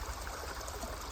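A flowing brook on a mountain trail near Lonesome Lake, a steady close rush and trickle of water over rocks with no voices.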